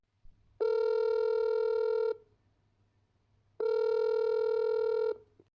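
Two long, steady telephone dial tones, each about one and a half seconds, separated by a short pause, loud and clear against near silence.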